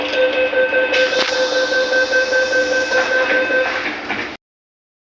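An MTR train sits at a Hong Kong station platform, with a loud, steady electric hum and whine and a sharp clunk partway through before the sound cuts to silence.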